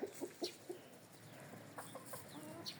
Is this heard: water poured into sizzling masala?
no